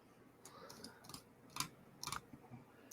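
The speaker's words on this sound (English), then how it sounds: "I can hear you tapping your keyboard." Soft clicking of a computer keyboard or mouse being tapped during a trivia-style game chat, a few faint scattered clicks and taps at close range, quiet, with no talking over them.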